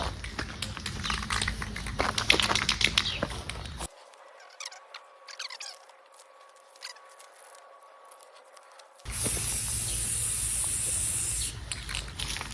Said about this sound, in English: Spray paint it.